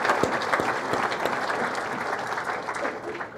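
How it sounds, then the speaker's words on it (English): Dense, sustained applause fills a sports media panel event at NYU's Tisch Center, a seated audience clapping steadily and loudly throughout with a faint murmur of crowd underneath. "he deserves a round of applause just for that"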